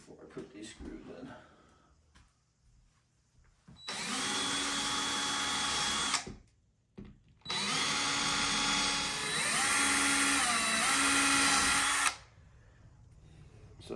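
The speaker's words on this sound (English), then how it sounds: "Drill some pilot holes before I put these screws in." Power drill boring pilot holes for screws into a built-in cabinet with a window seat, two loud sustained whining bursts of several seconds each, separated by a short pause, with faint talk before them.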